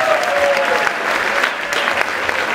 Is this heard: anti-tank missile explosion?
no